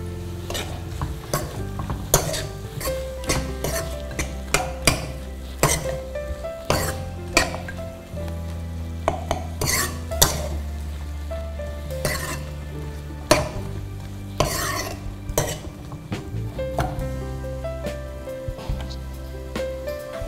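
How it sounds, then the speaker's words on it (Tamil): Drumstick and brinjal sauté in a pan for sambar, with a steady sizzle under repeated sharp scrapes and clinks of a spoon stirring against the metal, close and busy throughout. "வதங்கிட்டு இதுவும் ஒரு 4 minutes வதங்கணும்."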